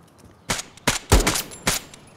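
Gunfire in the Escape from Tarkov video game: four or five sharp, separate shots cracking out at irregular intervals over about two seconds, moderately loud against a quiet background.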